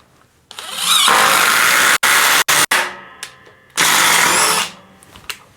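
A DeWalt 20V XR DCF845 cordless impact driver whirs loudly in two long bursts separated by short clicks and brief pauses, then winds down to silence.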